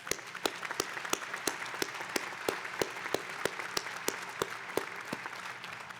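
Steady applause from a seated audience at a 2017 graduate commencement ceremony, with sharp individual claps standing out in a regular rhythm throughout.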